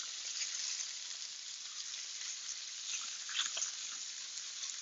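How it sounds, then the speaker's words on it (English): Steak searing in a hot pan, a steady, fairly quiet hiss of sizzling fat that holds evenly throughout with no voices. "the steak, it's just going to be 1 minute on each side so you get a nice little sear"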